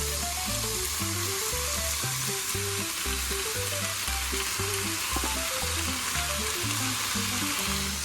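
Small fresh tomatoes (pomodorini) go into a frying pan for pasta primavera and give a dense, steady sizzle, heard close and even throughout, under a low rhythmic tonal pattern from background music.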